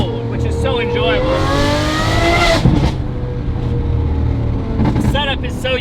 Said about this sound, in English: There's so many different flavors of exhaust noise and that howl you can get out of this engine